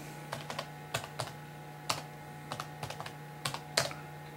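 Keys on a computer keyboard are tapped in short bursts while a password is entered into Microsoft Bob, with about a dozen crisp clicks spaced irregularly over four seconds against a faint steady hum.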